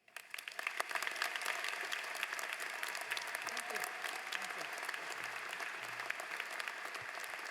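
A commencement audience at the University of New Hampshire breaks into sustained, dense applause for a speaker taking the stage, swelling quickly and holding steady as a full crowd claps together.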